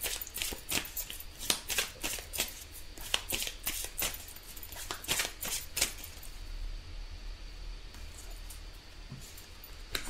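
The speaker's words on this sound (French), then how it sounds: "Alors on va tirer maintenant une carte pour voir le conseil." Tarot cards are shuffled and drawn by hand in a run of crisp, rapid riffling bursts during the first six seconds, then fall quiet to a low room hush, with no talking.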